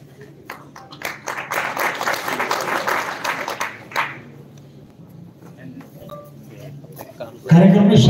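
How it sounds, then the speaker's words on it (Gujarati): Guests at a Gujarati family honour ceremony applaud a visiting guest, with a burst of many hands clapping that rises, holds for a few seconds and then fades, followed by a quieter stretch and a voice near the end. "બધા તાળીઓથી સન્માનમાં જોડાશું।"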